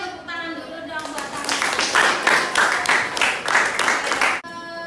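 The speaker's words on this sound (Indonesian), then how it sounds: "Tepuk tangan dulu dong" Students in a mathematics classroom break into a dense round of clapping that lasts several seconds, close and fairly loud, with a brief voice just before it and a sudden stop at the end.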